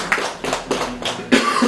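Applause from guests welcoming people at a wedding, loud and close, coming in several bursts of broad clapping with brief dips between them.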